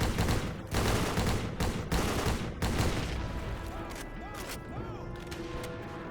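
Gunfire from a video game beach mission, machine gunners firing in the distance: bursts of loud, dense shots in the opening seconds, then a quieter battlefield bed with whistling, swooping tones as the shooting thins out.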